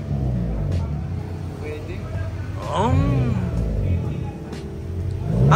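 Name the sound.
1999 Honda Civic SiR engine revving with chambered muffler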